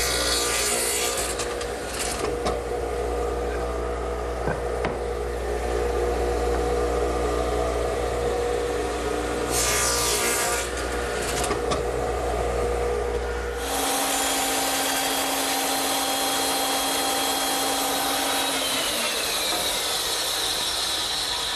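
A radial arm saw hums steadily while making side cuts for a wooden tenon, with bursts of louder cutting noise partway through and the motor winding down near the end.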